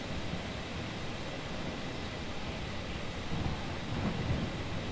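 Steady, dense rainfall with a low rolling thunder rumble in the video game Eastshade, building slightly toward the end, with no voices.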